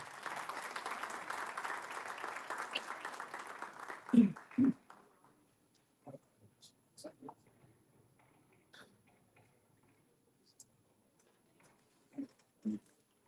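An audience at a human rights panel discussion in Dallas applauds to welcome its president, a steady wash of clapping that fades out after about four seconds, followed by sparse speech and quiet room sounds.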